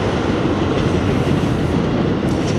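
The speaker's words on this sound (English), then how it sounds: "And there's the New Jersey Transit train." A New Jersey Transit train passing close by in downtown Bound Brook, a loud continuous rumble with rhythmic wheel clatter on the rails, sustained without a break and no voices.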